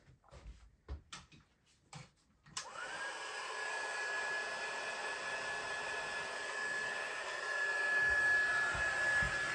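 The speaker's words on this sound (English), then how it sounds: "I think my heat tool will work over this far." Heat tool blowing hot air to emboss a card, switching on after a few soft handling clicks and then holding a steady, loud whooshing hum with a faint whine.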